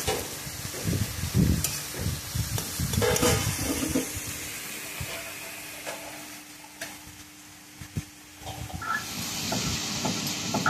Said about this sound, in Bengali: চিংড়ি মাছটা আগে বেশি করে ভেজে তুলে রাখবো